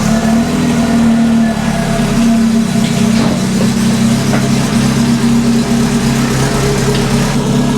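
A Lotus Elise S1 Sport 160 engine idles steadily with a loud, constant low rumble and hum throughout.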